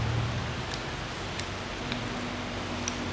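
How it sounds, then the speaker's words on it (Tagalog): Heavy rain falls steadily at a restaurant in Biñan, Laguna, a dense continuous hiss with a few scattered drip ticks and a low hum underneath, no talking. "Kasi tingnan nyo Lakas ng ulan."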